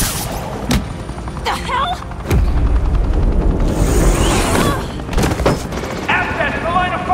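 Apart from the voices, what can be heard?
police gunfire in the video game Batman Telltale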